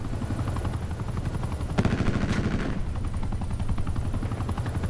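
Gunfire in Call of Duty: Black Ops 4, steady game action running throughout with a loud burst near the middle, set over a continuous helicopter-like engine drone.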